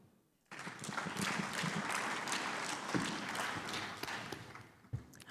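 Conference audience in a main summit hall breaks into sustained applause after a brief quiet start, a dense wash of clapping that holds steady for several seconds before thinning and fading, with a few louder individual claps near the end.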